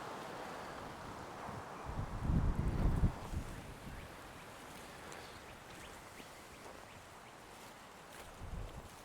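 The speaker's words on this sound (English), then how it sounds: "It's getting windy." Wind gusts outdoors, a low rumbling buffet that swells loudest for about a second early on, eases into a steady breezy hiss, then gives a smaller gust near the end, with no talking.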